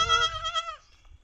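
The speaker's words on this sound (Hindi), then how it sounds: "बड़ी बकरी खाएगी ये उधर खड़ी है" A goat bleats once in a village setting, a wavering nasal cry of under a second that trails off, with low background rumble and no speech.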